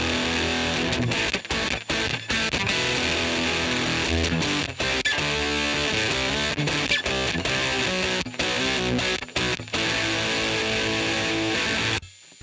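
Electric guitar through an overdrive pedal plays gritty, crunchy chords and riffs with frequent short stops, loud and close, ending abruptly.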